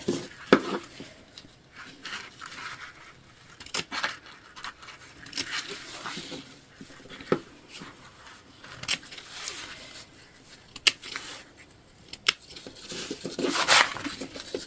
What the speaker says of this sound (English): you do want to cut away this interior lining so that it opens up your pocket